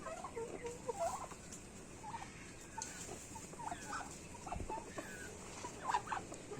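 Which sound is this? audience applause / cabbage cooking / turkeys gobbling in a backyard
turkeys gobbling in a backyard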